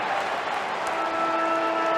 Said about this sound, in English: But this crowd's fantastic.